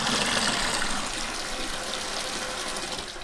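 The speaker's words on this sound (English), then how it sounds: "All I have to do at this point is leave the pump in here, flip the switch, and you got your way to empty it out." Pump draining water out of a homemade jon boat's budget DIY livewell through a hose, giving a steady, even gushing rush of water throughout with no voices.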